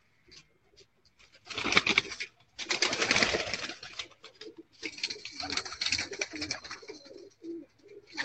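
Type 41 pigeons coo and shuffle nearby, their low rolling calls mixed with pattering feet and rustling in dense bursts separated by short quiet gaps.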